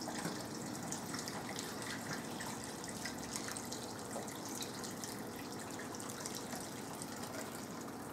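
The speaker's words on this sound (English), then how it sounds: "And then top off the rest with water" Water is poured steadily into a pot of beef and Guinness stew, giving an even, continuous gushing splash that runs unbroken throughout at moderate loudness, with no voices.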